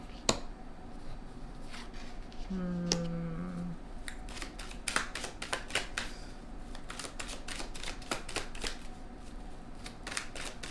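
Tarot cards being shuffled and drawn, close crisp snaps and flicks in irregular bursts over a low room hum, with a short tonal sound partway through.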